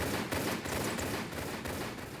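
Pistols fire at bats in a custom Tomb Raider level set in a monastery. Shots crack out quickly and repeatedly through a dense, continuous wash of noise, with no talk over them.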